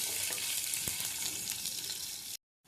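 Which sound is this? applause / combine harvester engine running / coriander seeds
coriander seeds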